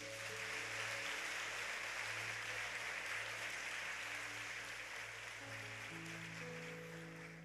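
An audience at an international Pentecost congress applauds steadily, a sustained wash of clapping with soft music or tones held underneath, tapering slightly toward the end.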